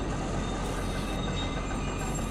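A tram rolls along steadily in the Kentucky Route Zero video game, a continuous broadband rumble and rattle of rail travel with faint high tonal whine, steady and close, with no talking.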